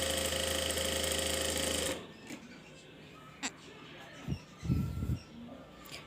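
Sewing machine stitching a blouse, running in a steady, dense mechanical whir for about two seconds before it stops, followed by a quiet room with a few soft handling clicks and bumps.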